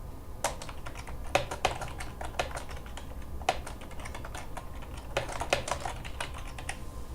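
Someone types a call title on a computer keyboard in an office, producing quick irregular clusters of light key clicks with short pauses between bursts, close and fairly quiet, with no voices.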